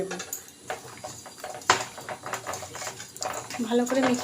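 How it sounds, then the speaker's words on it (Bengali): Pabda fish being rubbed with turmeric and salt in a dish, giving soft wet squelches and light clinks against the bowl, with a voice talking over much of it. "মাছে এবার হলুদ দিয়ে দিলাম আর লবণ দিয়ে মাছটাকে আমি ভালো করে মেখে"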